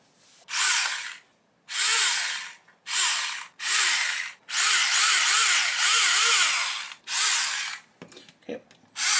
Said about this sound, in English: I can kind of come in here and drill in this way